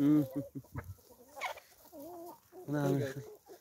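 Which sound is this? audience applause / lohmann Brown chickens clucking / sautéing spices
lohmann Brown chickens clucking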